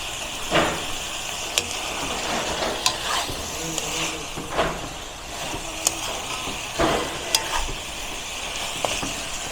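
Cubes of fried tofu stir-fried with pork in a pan, a steady sizzle with repeated sharp clacks of a utensil against the pan at irregular intervals.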